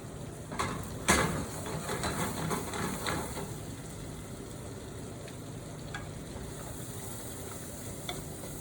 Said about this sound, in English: we saute the onions, carrots and the shells so that we enhance the flavor of the bisque